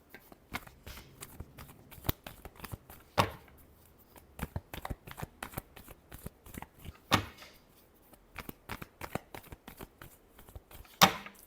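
Tarot cards shuffled by hand in a quiet room, a fast run of crisp riffling flicks and soft slaps with a few louder snaps, close and alone.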